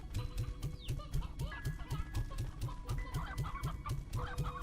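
Chickens in the Slime Rancher 2 video game cluck in a quick, steady repeating rhythm, a dense flock close by with continuous overlapping bawks and no talk.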